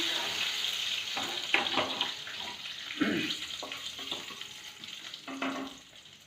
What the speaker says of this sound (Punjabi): ਤੇਜ ਪੱਤਾ ਚੰਗੀ ਤਰ੍ਹਾਂ ਇਹਨਾਂ ਨੂੰ ਆਪਾਂ ਹਲਾਉਂਦੇ ਰਹਾਂਗੇ